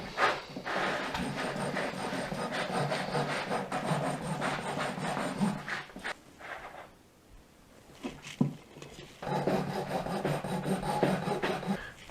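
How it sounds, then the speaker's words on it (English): A cake wire saws through a cooled sponge cake, giving a continuous close rasping rub that pauses for a few seconds midway, then resumes. "we can cut it into 3 even slices. And to do that, I'm gonna use this little cake wire"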